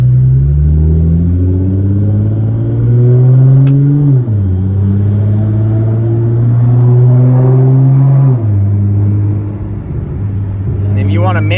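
A 2015 Nissan GT-R's engine revs and pulls hard as the car accelerates, heard from inside the cabin with the windows down, the pitch climbing through gears with a shift around four and eight seconds.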